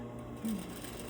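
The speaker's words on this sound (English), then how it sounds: "Back stitch, and that is the underlap stitched." A sewing machine back stitches the underlap of a lapped zipper in a short, faint burst of rapid mechanical whirring, alongside soft background voice sounds.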